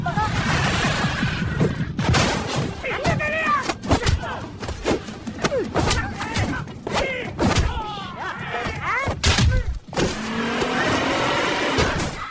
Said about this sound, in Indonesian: Ma Dong-suk pun gagal menangkap si Tomo setelah Ricky berhasil menabraknya.